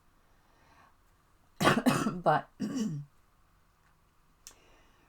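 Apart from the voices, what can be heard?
cough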